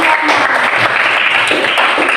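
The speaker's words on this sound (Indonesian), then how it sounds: "Kasih tepuk tangan." Children in a classroom clap together in steady, dense applause that lasts a couple of seconds.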